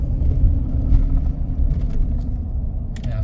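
A 2014 Chevrolet Silverado diesel pickup, its fuel contaminated with DEF, driving: a steady low engine and road rumble heard from inside the cab, constant and fairly loud, with no talk.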